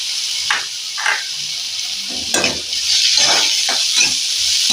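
Onion and curry leaves sautéing in a hot pan while being stirred, a constant sizzle punctuated by repeated scraping strokes of the spoon, close and fairly loud, with no one talking.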